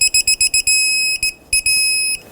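A torque wrench beeps in a rapid train of short tones, then a longer steady beep and a few more, loud and close, as a Toyota Camry lower control arm bolt reaches torque.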